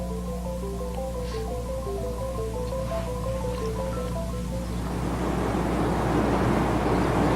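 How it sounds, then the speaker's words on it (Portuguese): A fast, turbulent mountain stream rushes in as a steady, full wash of water noise, rising over the last few seconds after a soft sustained musical tone fades. "Consideremos, por exemplo, essa rápida corrente na montanha. O fluxo é rápido, até mesmo turbulento em alguns pontos."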